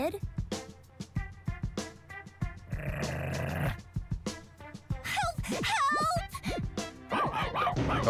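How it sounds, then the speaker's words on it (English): A goofy cartoonish dog barks in the Gurumin action video game, with several short yips and whimpers mixed among game effects and music, fairly close. "That was the goofiest dog barking I ever heard."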